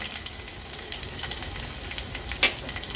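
Ginger-garlic-chili paste and two dried chilies sizzling in hot tempering oil, a soft, steady crackle with a couple of sharper pops.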